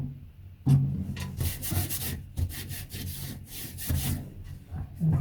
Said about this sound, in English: put it down here so I can cut this to size